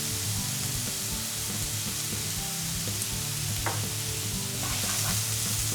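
Flour and softened onion toasting in a hot pan, with a loud continuous sizzle and crackle and occasional scraping strokes of a spoon, close up.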